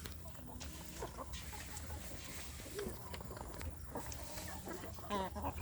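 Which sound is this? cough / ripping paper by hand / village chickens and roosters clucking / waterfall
village chickens and roosters clucking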